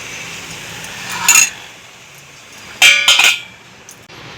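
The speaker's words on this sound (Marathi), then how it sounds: "एक 5 मिनिटं आपण झाकण ठेवू।" A lid goes onto a pan of sevai shira, vermicelli sweet cooking on the stove: one sharp metallic clink, then a quick rattling cluster of clinks as it settles, up close with no voices.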